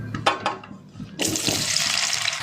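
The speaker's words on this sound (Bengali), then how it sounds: "এবার কেটে রাখা আলু, ঢেঁড়স, টমেটো, পেঁয়াজ, কাঁচা লঙ্কা সব দিয়ে দেবো।" Potatoes, okra, tomato, onion and green chilli are tipped into hot oil in a wok, starting with a few knocks and clatters and then a loud, steady hiss of frying that continues to the end.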